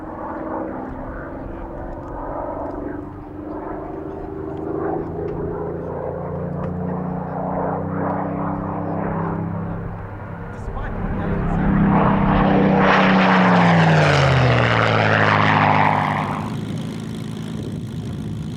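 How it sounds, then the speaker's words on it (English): A Spitfire flies a display at the 1996 Duxford airshow. Its propeller-engine drone grows steadily louder, then swells into a roaring close pass with a falling pitch before easing away. "Ray Hanna is acknowledged by other pilots as the master of the Spitfire display"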